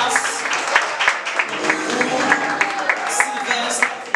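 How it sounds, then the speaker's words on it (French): An audience at the grand final of an ambassador competition applauds the third-place finalist, a steady round of clapping under an announcer's voice with rhythmic claps standing out. "on applaudit Sylvestre Junior"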